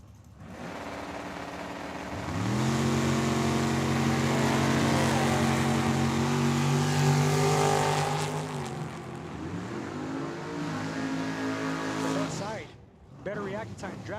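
A dragster and a 1971 Ford Maverick launching side by side at a drag strip, loud engines rising in pitch and roaring on before fading, with a PA announcer talking over them.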